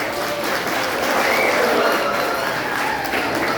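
Audience applause at a college dance celebration in Bangalore rises as a loud, dense crowd clapping that holds steady throughout, with some cheering voices mixed in.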